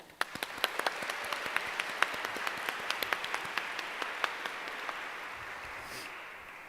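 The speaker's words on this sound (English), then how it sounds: "a round of applause for everybody for being here and making it in person" Audience applause at a university nursing pinning ceremony, a burst of many hands clapping with sharp individual claps standing out, gradually thinning and fading away.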